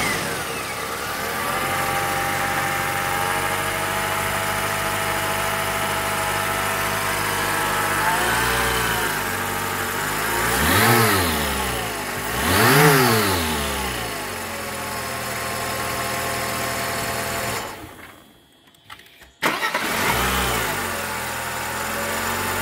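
A 1995 Mercedes E320 engine idles steadily, revving up twice in smooth swells before dropping out briefly and catching again, loud and close with no talking.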